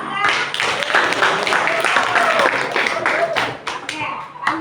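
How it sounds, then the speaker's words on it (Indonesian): Classroom of students clapping for a classmate, a loud burst of uneven hand claps with children's voices chattering underneath. "tepuk tangan untuk teman kita"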